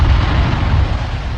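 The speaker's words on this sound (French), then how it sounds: "Là-bas, une autre explosion." Stromboli volcano erupting with a deep, rumbling explosion, a sustained low boom that fills the whole stretch loudly and slowly fades without any voices.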